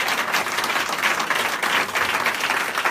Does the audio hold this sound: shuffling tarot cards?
no